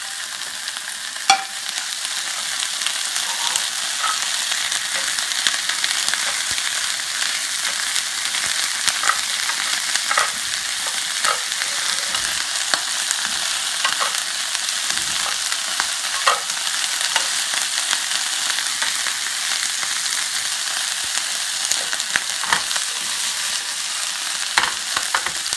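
Green apple and yellow and red bell peppers fry in a pan with a steady, bright sizzle, dotted with light ticks and pops from stirring over a long unbroken stretch.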